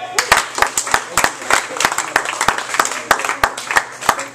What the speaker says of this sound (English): Please put your hands together. Warm round of applause for Davey Dynamite!